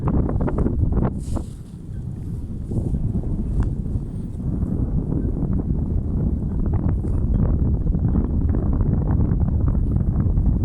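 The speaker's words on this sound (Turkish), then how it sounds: "Biraz rüzgar var tabi." Steady wind buffeting the microphone, a constant low roar with gusty rumbles throughout, no voices.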